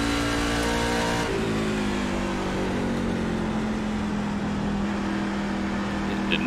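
A NASCAR Truck Series engine screams at high revs in iRacing at WWT Raceway at Gateway, a loud, close, sustained whine that drops in pitch after an early shift and then holds steady.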